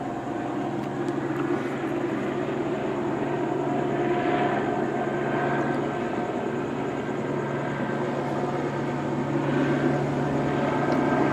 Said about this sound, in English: By the sound of it, looks like it's going to go for another flyover.